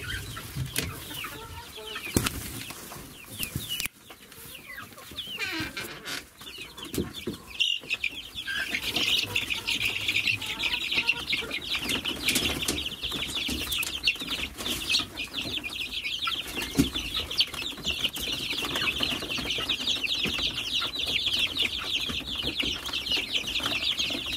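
Chickens and young roosters from a brooder cluck and squabble continuously inside a chicken coop, scrambling over a treat, with occasional wing flaps among the steady, close flock chatter.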